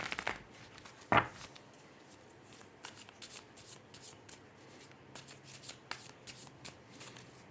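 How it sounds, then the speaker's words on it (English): Tarot cards being shuffled by hand close up, with a sharp riffle burst near the start and then soft, irregular slides and taps of the cards in a quiet room. "I'll just give them a quick more shuffle so you can see that it's done"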